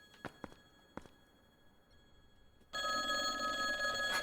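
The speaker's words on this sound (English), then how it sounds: "Phone is ringing!" A few soft knocks and footsteps, then a bright telephone ring cuts in and keeps going, loud and steady, in the Lake Haven horror game.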